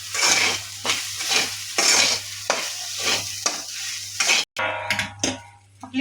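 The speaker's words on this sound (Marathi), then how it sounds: "आता आपण आपली ही खिचडी एकदा हलवून घेऊयात।" Upwas khichdi stirred in a pot, a spoon scraping in repeated rhythmic strokes over a soft sizzle, with a sharp metallic clatter near the end; close up and no one speaking.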